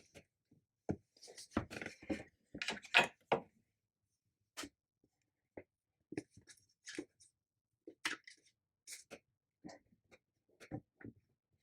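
Tarot cards being shuffled by hand, irregular bursts of crisp riffling and slapping in quick clusters separated by short pauses, close and fairly quiet with no talk.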